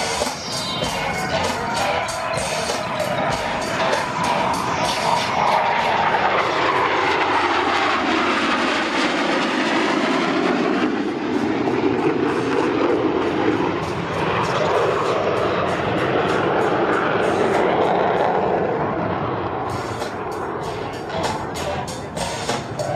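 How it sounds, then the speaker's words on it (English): Two US Navy Blue Angels jets approaching in carrier landing configuration at a New York airshow, a loud continuous engine roar with a sweeping, rising and falling tone as they pass, under an announcer's commentary. "both aircraft are in the carrier landing configuration as they approach for a maneuver we call the"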